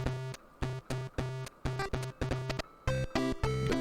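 Bouncy chiptune-style electronic music with short repeated square-wave notes in a quick, choppy rhythm, fairly quiet.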